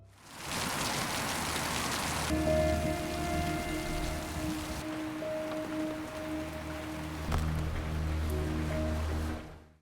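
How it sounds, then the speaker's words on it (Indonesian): Heavy rain pouring down steadily as a dense, continuous hiss, with a low hum underneath, fading out at the end. "hujan kembali turun dengan deras"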